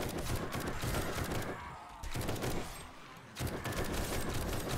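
Dense automatic gunfire in the video game 7 Days to Die during a horde night rattles in long continuous bursts, broken by two brief pauses before resuming.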